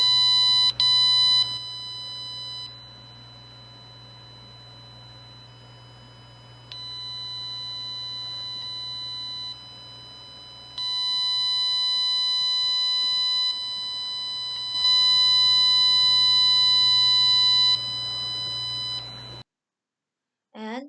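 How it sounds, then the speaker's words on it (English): A homemade alarm circuit's buzzer sounds in sustained electronic tones that start and stop in segments, growing louder in steps before cutting out. "this is the sound of buzzer"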